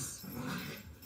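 Two pet dogs play fighting indoors, a close, continuous run of growls, whimpers and panting that fills the whole clip without any talk.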